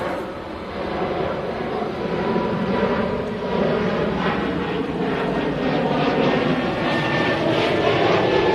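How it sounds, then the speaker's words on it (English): A Swiss Airbus A220 rolling for takeoff to Zurich at Manchester Airport, a steady, broad jet roar that builds slightly and holds loud and sustained without pause. "Swiss A220 now on the roll to Zurich."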